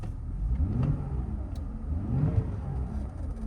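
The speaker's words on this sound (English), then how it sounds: "Beautifully smooth engine. Let's just give it a very quick rev." A Mercedes W209 CLK engine idles smoothly and is given two quick revs that swell and fall back. The sound is close and steady, with no talking.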